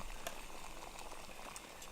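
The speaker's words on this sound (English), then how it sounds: "throwing coffee in a boiling pot of water" Dense, steady bubbling and hissing of water at a rolling boil in a pot on a backpacking cook kit outdoors, close and continuous, with no voices.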